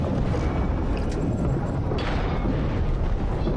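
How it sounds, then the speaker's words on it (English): A submarine torpedo attack in the underwater game Diluvion produces a dense, constant low rumble and booming. A couple of faint higher impacts sit over the heavy droning roar, and no one speaks. "Let's see if we can't torpedo her right away."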